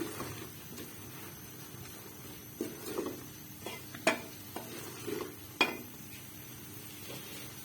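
Tomatoes roasting in a pan for Lahori chana, with a low sizzle under repeated spoon scrapes and a few sharp metallic clinks against the pan.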